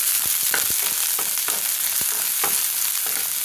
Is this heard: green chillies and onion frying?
yes